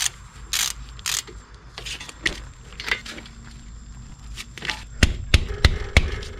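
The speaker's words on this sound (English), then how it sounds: "I'm just going to tighten them up with the ratchet" A ratchet tightens brake caliper mounting bolts on a 1992-2001 Toyota Camry, with close clicking pawl sounds and metallic handling, ending in several sharper clicks in quick succession.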